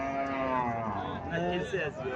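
A Sahiwal cow at a cattle market in Cumilla moos in one long, loud, close low call lasting about two seconds, with market chatter faintly behind.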